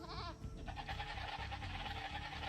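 A goat in Age of Empires II bleats in a short wavering cry at the start, faint under game music and background effects.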